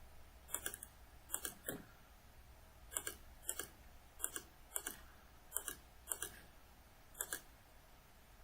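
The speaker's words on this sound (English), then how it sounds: "And then now we just need to type in TR," Keys tapped on a computer keyboard while entering a command in Revit architectural software, a quiet room with about a dozen sharp, separate clicks in irregular bursts, fairly close, no talking.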